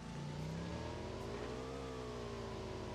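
A motorbike engine in the mobile battle-royale game PUBG Mobile runs steadily with a rising, revving drone. The engine is loud and continuous throughout, with no voices over it.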